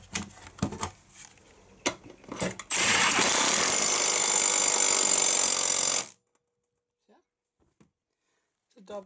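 A power tool runs in a loud steady burst of about three seconds, tightening a new nut on the blades of a garden tractor, preceded by clattering handling sounds and followed by near silence.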